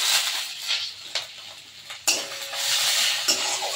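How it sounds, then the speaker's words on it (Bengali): Curry leaves, mustard seeds and ginger sizzling in hot oil for a dal tempering, a steady close hiss with a few stirring clinks of a utensil against the pan. "আর দিয়ে দিলাম কারি পাতা, সর্ষে, আদা।"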